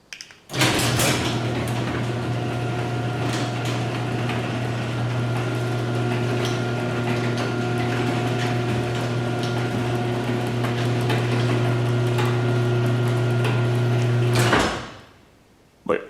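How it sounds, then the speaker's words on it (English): A LiftMaster 8365 garage door opener closes the door after maintenance, a steady loud motor hum with tonal drone running about fourteen seconds before stopping abruptly as the door reaches the end. "now let's go ahead and close the door"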